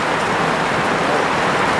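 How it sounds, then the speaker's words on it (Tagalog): Heavy mountain rain, suddenly stronger, pours down as a dense, loud, steady hiss with no break. "at biglang lumakas po yung ulan"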